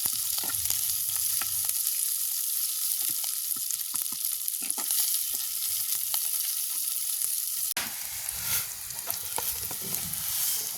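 Onions and plenty of green chillies frying in a pan, a continuous close sizzle with scattered spoon scrapes and taps, swelling briefly louder near the end.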